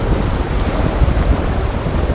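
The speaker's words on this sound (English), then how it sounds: "Oh, waves!" Ocean waves crash around a small boat at sea in the video game Arcane Odyssey, a loud, continuous rumbling wash with heavier surges swelling now and then.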